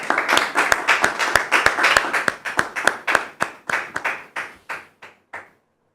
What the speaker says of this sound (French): Recevons maintenant Maman Yvette sous vos applaudissements